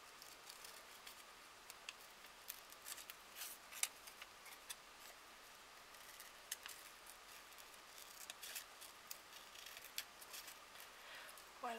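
Scissors snip through thin advertising paper during a children's craft activity: quiet, irregular crisp snips and rustles repeat close up over a soft background hiss, with no talking.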